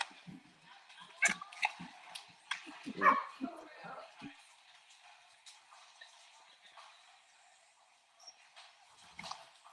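A dog barks and yips excitedly as a family member arrives home. The short, bright bursts cluster early and come through under people talking nearby.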